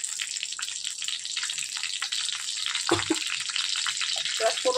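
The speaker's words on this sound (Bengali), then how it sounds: "ফোড়নটা ভাজা হয়ে যাক আর ফোড়নটা ভাজা হয়ে গিয়েছে" Bay leaf, dried red chillies and whole cumin crackle in hot oil in a kadai, a steady bright sizzle with a few clinks of utensils partway through.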